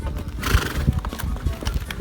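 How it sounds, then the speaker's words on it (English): Horses walking on a steep mountain trail in Peru, hooves clip-clopping in an uneven rhythm close by, with a horse neighing. "We rode on horseback."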